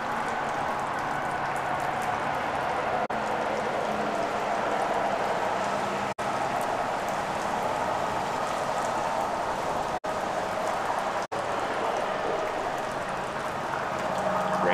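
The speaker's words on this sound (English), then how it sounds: "Rain dripping sounds like I'm chewing with my mouth open." Steady rain patters and drips continuously at close range, a dense even hiss of drops on surfaces lasting throughout with no voices.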